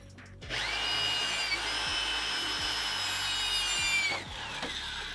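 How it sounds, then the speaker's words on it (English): A power drill bores a pilot hole into a Nissan 350Z car fender during a widebody build, a steady high whine sustained for about four seconds before winding down, with faint knocks and handling noise around it. "I'm now going to go in with a drill and set in my hole."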